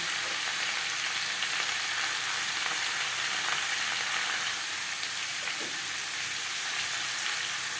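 Potatoes fried in oil with salt and turmeric sizzle loudly and steadily at close range, a dense unbroken hiss with a few small pops and stirring sounds, no talking.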